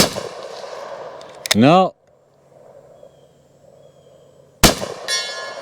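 A Rossi Taurus Circuit Judge fires a cowboy load at a steel target about 75 yards out: a loud gunshot, then a distant metallic clang a few seconds later, with a brief spoken word.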